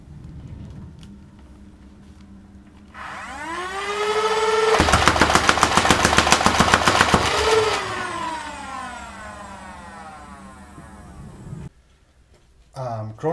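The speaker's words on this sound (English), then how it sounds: "Rate of fire test with stock motors and 18 darts in a clip." A Nerf Rapidstrike blaster on stock motors whines up, then fires a rapid burst of darts in a fast, even rattle of shots, the motor pitch rising and falling before it winds down, followed by brief handling clicks.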